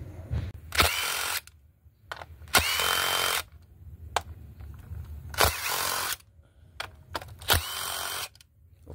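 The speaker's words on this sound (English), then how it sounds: "Of course, I'm using a drill" A power drill spins out 10mm bolts on a 2008 Nissan Altima 2.5, with four loud whirring bursts separated by short pauses and light clicks of tool handling.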